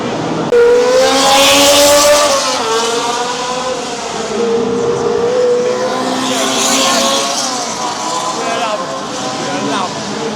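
A Ferrari Formula 1 race car from the historic Monaco Grand Prix screams past close by, its high engine note sweeping up and down in pitch, followed by another car passing, loud and continuous.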